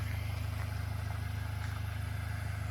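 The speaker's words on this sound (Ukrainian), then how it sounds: "автомобіль трошки підсвистує, тут як чути, все робить тихенько" A 2011 Renault Trafic 2.0 diesel van idles low and even with a steady rhythmic pulse, quiet and close, with a faint whistle-like whine above it and no talking.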